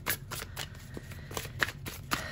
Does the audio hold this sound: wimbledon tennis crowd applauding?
no